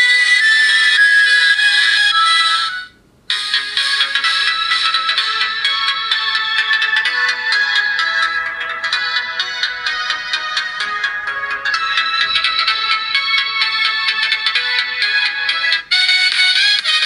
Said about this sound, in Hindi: तो यहाँ पर मैं म्यूज़िक की क्वालिटी भी आप लोगों को सुना देता हूँ।